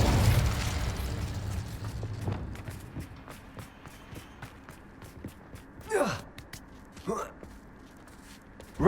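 An Incendio fire spell is cast in a Harry Potter video game, heard as two quick whooshing fiery bursts over a low ambient background, with breathy vocal sounds from a game character nearby.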